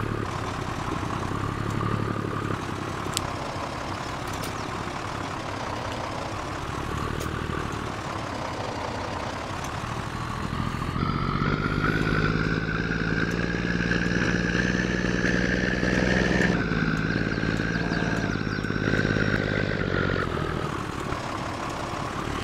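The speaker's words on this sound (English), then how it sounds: "I would really like this semi-truck a lot more if it wasn't so bloody loud" A semi-truck engine in the Farming Simulator 22 video game drones loudly and continuously, its pitch wavering as it idles and then climbing into a harsher, louder rev partway through before easing back down.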